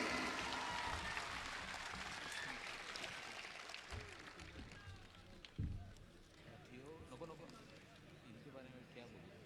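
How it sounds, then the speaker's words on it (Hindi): An audience at a large public gathering applauds to welcome a speaker to the microphone, a broad burst of clapping that slowly fades. A voice then begins speaking as the applause dies away. "पुरजोर तालियों से इनका इस्तकबाल कीजिए"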